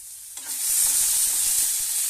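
Onions for onion chutney frying in a pan, a bright hissing sizzle that swells in after a brief quiet start and holds steady with low stirring rumbles beneath, close and fairly loud.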